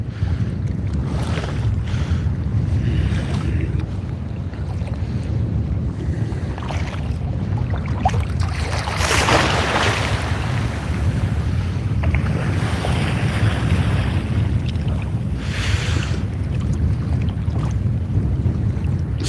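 Gusty wind buffets the microphone over choppy water during kayak fishing, with a steady low roar and surges of waves slapping the hull, continuous and close with no talking.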